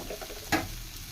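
Cluster beans sizzle steadily in a pan with a soft stir or scrape partway through, the frying hiss close and continuous.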